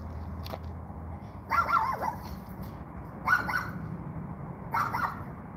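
An excited dog barks and whimpers indoors in short bursts spaced a second or two apart, moderately close, with eager whines between the yips.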